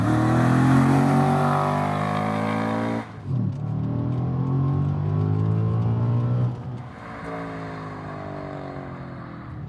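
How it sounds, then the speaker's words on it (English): An Audi RS4 engine, long idle then started and running again, revving hard from outside the car, with two loud, sustained throttle pulls separated by brief drops, close and alone. "It's a great sounding engine, people."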